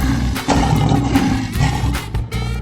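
A lion roars in a 3D animal slide video game, loud and close with a rough, growling texture and several pulsing bursts over a couple of seconds.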